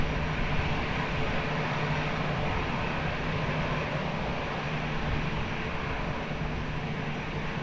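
Airplane on short final to runway 20 at Lisbon Airport, a continuous broad engine roar at steady loudness throughout, heard from a distance with no voices.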